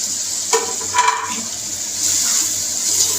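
Potatoes tipped into an onion-tomato masala sizzling in a pan for a potato and egg curry, with a steady wet frying hiss and a brief clatter as they drop in, no talk.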